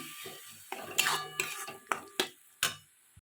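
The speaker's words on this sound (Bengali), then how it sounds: "পরিমাণ মতন আমি হলুদ দিলাম দিয়ে ভালো করে আমি নেড়ে নেব" A spoon scraping and clinking against a pan while stirring eggplant mash with turmeric, a series of about six sharp, close taps and scrapes over soft background noise.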